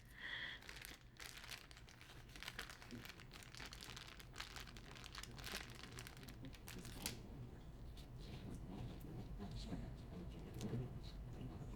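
Plastic tissue culture packaging for variegated houseplants crinkles and rips open in close, continuous rustling with sharp crackles, under faint background talk.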